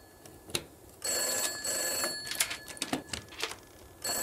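A telephone bell rings in bursts inside a building in the horror game From Day to Day, quiet and slightly distant, with faint footsteps and clatter around it.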